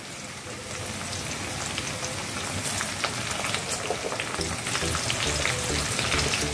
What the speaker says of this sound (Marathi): टोमॅटो घालून घेते मी या कढईमध्ये।